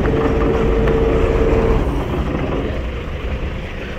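A trawler's engine drones steadily at a ghat on the Mongla canal, a loud, close, low rumble with a brief tonal whine early on that fades as the noise eases slightly.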